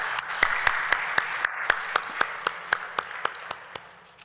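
Audience applause for a panel at the opening session of an education-for-peace summit: a sparse, evenly spaced run of single hand claps over a soft crowd bed, slowly fading toward the end.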